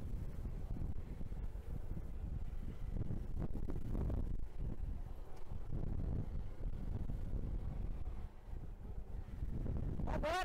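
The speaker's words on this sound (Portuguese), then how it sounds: "Agora essa parte é contra vento." Steady headwind buffets the microphone during a beginner-category mountain bike race in São Francisco, a constant low roaring rumble that runs throughout.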